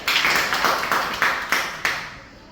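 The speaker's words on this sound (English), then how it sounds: "Alright, we'll give Ariel a clap" A classroom group gives a short round of clapping for a student during a micro-teaching lesson. Several quick, close claps fade out within a few seconds, with no talking over them.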